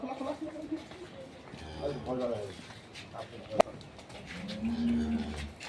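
Low dairy cow moos rise among nearby voices and livestock-yard noise at a dairy farm in Dinajpur, Bangladesh, one early and a longer drawn-out moo toward the end.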